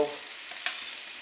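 Mustard seeds and onion sizzling in hot oil for a breadfruit vegetable tempering, a brief soft sizzle with one sharp crackle or stir.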